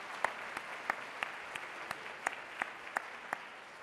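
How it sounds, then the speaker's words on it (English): Sparse, evenly spaced hand claps from an audience saluting members of the Armed Forces, faint and somewhat distant over a low hiss, with no voices. "Would you please join me in applauding them?"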